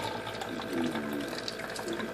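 Water poured slowly trickles down through small holes like a fountain, a soft continuous splashing and dribbling close by with no talking.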